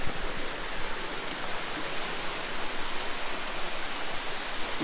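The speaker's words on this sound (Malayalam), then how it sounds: "വെള്ളച്ചാട്ടത്തിൻ്റെ സൗണ്ടൊക്കെ നമുക്ക് കേൾക്കാൻ പറ്റുന്നുണ്ടേ" The Marachuvadu waterfall gives off a dense, constant roar of rushing water that is loud and close and holds steady from start to finish, with no voices.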